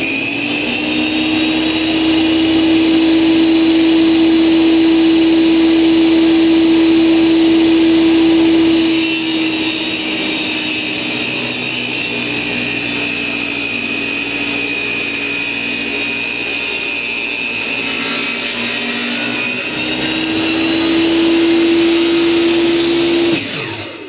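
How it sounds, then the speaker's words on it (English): A table saw whines steadily and loudly as it runs the angled cut along a boat's transom motor board, the pitch dipping midway under load and then rising again near the end. "I'm just going to run the motor board right across the table saw and make that cut."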